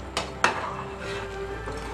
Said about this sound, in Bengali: নুন স্বাদ মতন অ্যাড করার পর এবারে জিনিসটাকে আমরা একটু ভালো করে মিশিয়ে নিচ্ছি